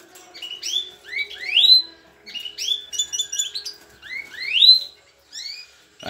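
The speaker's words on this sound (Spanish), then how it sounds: "aquí tenemos otro jilguero con su hembra" A goldfinch and a female canary in an aviary call back and forth with bright, rising chirps and short twittering phrases, close and clear against a quiet background.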